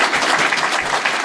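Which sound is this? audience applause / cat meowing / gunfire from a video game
audience applause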